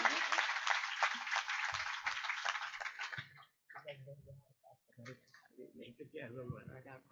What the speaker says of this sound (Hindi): आप लोग जोर के तालियों के साथ अभिनंदन करेंगे।